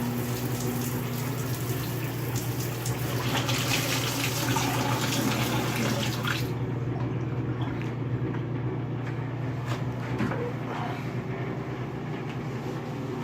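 Shower water runs with a steady, loud, close hiss and rush that continues unbroken throughout, with no talking.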